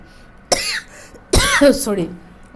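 Two rough coughs burst out about a second apart, close to the microphone, with a voice carrying on right after the second.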